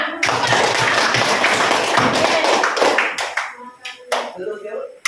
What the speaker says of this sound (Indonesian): Ya, berikan lagi aplaus untuk semua.